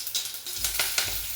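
Mustard seeds, cumin and crushed garlic cloves sizzle in hot oil while frying bhaji, a steady close crackle with a few brief bursts of popping.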